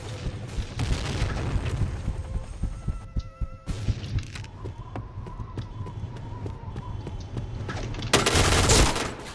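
Rapid bursts of gunfire from the online shooter game Point Blank, dense and continuous with overlapping shots, easing off midway and then surging into a louder volley near the end.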